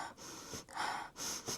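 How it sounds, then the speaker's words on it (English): Someone sniffs a new Polene Numéro Neuf leather bag with several quick, breathy inhalations up close, rising and falling in short bursts with no talking. "The sniff test, right?"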